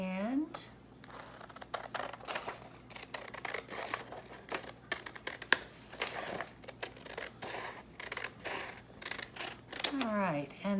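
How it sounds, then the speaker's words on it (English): Scissors cutting folded paper for a frog craft, a run of quick crisp snips and paper rustles close up, with a person talking over them. "we want to cut it in half on that line"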